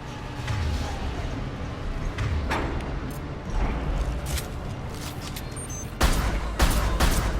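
Gunfire in a Mass Effect 2 Legendary Edition firefight, with loud, sustained bursts of shots and heavier booms that swell near the end.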